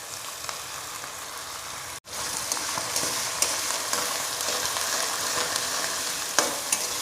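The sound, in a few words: masala and tomato frying in a karahi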